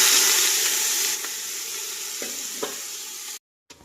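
Reddened onions fry in a pan as beans are tipped in for shrimp biryani, a loud dense sizzle that eases after about a second, with a few stirring knocks before cutting out.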